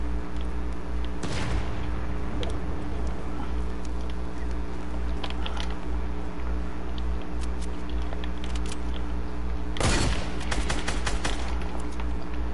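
Video game gunfire, with two loud, sharp bursts of rapid shots standing out above a steady background hum and scattered fainter clicks and pops.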